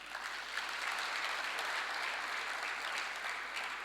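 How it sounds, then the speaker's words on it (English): Audience applause at a public lecture for a girls' secondary school, a steady dense wash of many hands clapping throughout, fairly distant and even, with no talk over it. "Can we give them an applause?"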